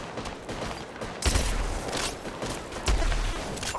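Bursts of gunfire in the mobile battle royale game Apex Legends Mobile: rapid crackling shots with two heavier booming volleys, close and loud over a continuous rumble of game ambience.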